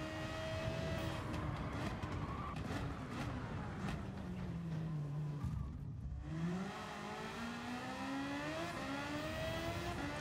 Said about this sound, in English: it's got the same, I think, Hayabusa motorbike engine that the standard one's got, but race car-ified. So with racing exhaust and stuff, it just kind of amplifies that noise